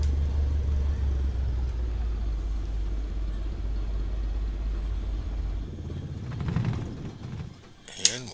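A Cessna 152 engine in Microsoft Flight Simulator 2020 winding down as the mixture is pulled to cutoff, its low steady rumble fading after a few seconds into quiet mechanical rattles and ending with a sharp click.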